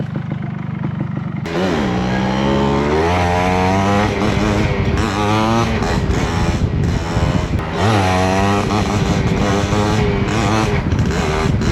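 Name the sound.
motorcycle accelerating on a straight road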